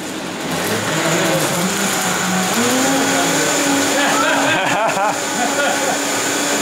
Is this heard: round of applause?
no